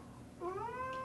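A chocolate point Siamese cat gives a single clear, rising meow, close and fairly loud over a soft background hum.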